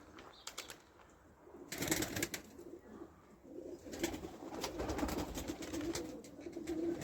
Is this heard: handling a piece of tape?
no